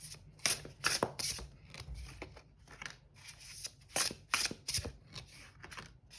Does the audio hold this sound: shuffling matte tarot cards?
yes